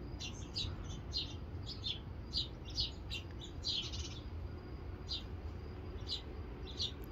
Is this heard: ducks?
no